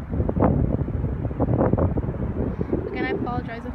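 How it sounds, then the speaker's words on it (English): Wind blowing at a beach buffets the microphone with a steady, loud rumble throughout, while a person talks briefly near the end. "it's a little bit windy here"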